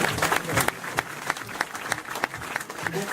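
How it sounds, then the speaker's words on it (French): Audience applause fills a BMW dealership showroom opening in Lyon, with many hands clapping in a dense, steady patter and a few sharper claps standing out, some faint voices mixed underneath. "Applaudissements, mesdames et messieurs."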